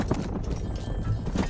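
Horse hooves clop in a quick, uneven rhythm on hard ground, close by, with a faint background hum, in the video game Red Dead Redemption.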